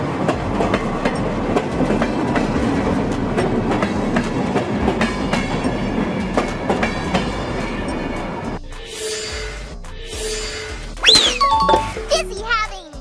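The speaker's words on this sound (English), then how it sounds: "A classic train powered by steam, symbolizing the beginning of the railway era." A classic steam locomotive runs along rails with steady rumbling and clickety-clack for most of the stretch, then sparse clanks and a high squeal near the end, with a voice briefly heard.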